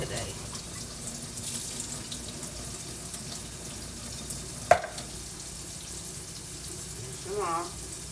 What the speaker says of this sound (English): I am getting ready to rinse off my sweet peas because I decided we're going to have sweet peas today.